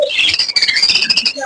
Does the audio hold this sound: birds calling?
yes